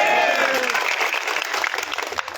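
Audience applause at a Bangladeshi political speech by an MP, a dense wash of many hands clapping, loud and steady for a couple of seconds with crowd murmur, fading slightly toward the end.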